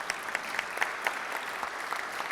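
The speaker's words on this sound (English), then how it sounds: "So please, a big round of applause for Sarah and Christy." Audience applause at a Rotary club meeting, a steady wash of many hands clapping at moderate level with a few sharper individual claps standing out, no talking.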